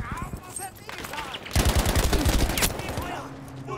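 Automatic gunfire from a weapon in Battlefield V rattles out in a loud, rapid burst lasting about a second, with scattered shots before it and a player talking around it.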